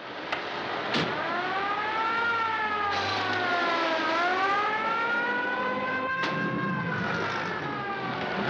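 Ambulance siren wailing loud and close, rising and falling in long sweeping cycles over a low engine rumble, with a couple of sharp bangs mixed in, from a 1939 film.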